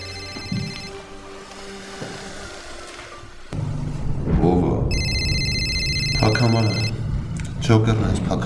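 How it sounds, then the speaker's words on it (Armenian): A telephone rings in bursts of electronic trilling, loud and near, arriving partway through over a tense dramatic music bed, with a voice talking before it. "Հեռախոսը դա վերցրու։"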